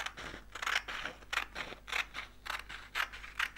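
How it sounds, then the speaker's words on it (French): Scissors cut steadily through strips of paper during a classroom arts-and-crafts activity, a regular series of crisp, close snipping crunches repeating about twice per second. "Et on découpe les 2 bandes."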